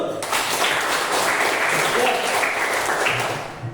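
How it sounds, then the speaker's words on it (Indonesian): Schoolchildren applauding together in a classroom, a dense burst of hand clapping lasting a few seconds, fairly close and steady before fading slightly at the end. "Tepuk tangan dulu."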